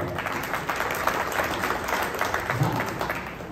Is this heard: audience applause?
yes